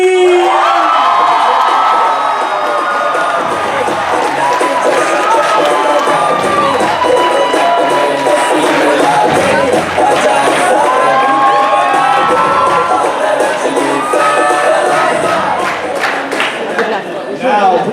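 Loud crowd cheering, whooping and applause fills a high school auditorium during a 2019 ICC show, sustained throughout with excited shouts and young voices rising over the din.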